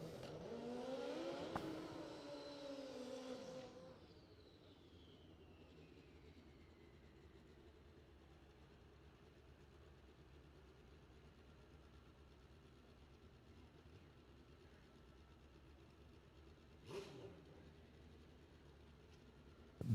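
Suzuki Hayabusa drag motorcycle at a racing event, a loud high revving engine that sweeps past and fades into a long quiet stretch before a brief second burst of noise near the end.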